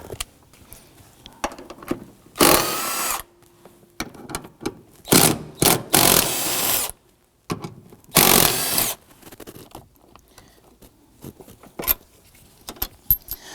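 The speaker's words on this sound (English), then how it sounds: "Remove the bolts." A power tool runs in short whirring bursts while removing bolts on a 2003-2014 Volvo XC90 3.2L, several loud bursts of one to two seconds separated by quiet handling clatter, with no talk.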